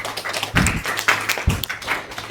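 A small indoor group claps in a classroom, giving a short patter of hand claps with a couple of louder bursts, heard close and with no talking.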